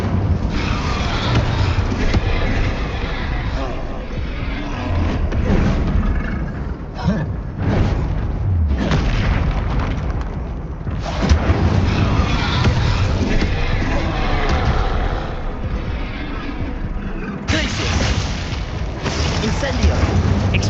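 Booming fire-spell blasts from Incendio casting in the Hogwarts Legacy video game, dense and continuous with repeated surges and short drops, loud and close, with speech mixed in throughout.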